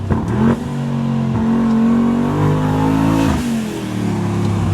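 A Mercedes G-Class engine revs hard and loud, its pitch climbing and holding, dropping briefly, then roaring up again before settling.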